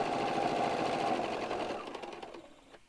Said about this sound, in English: So I'm stitching across my line